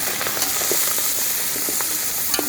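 Close, steady sizzling of bachhali greens frying in oil with seasoning seeds and chillies, a bright continuous hiss broken by a few sharp pops and stirring clicks.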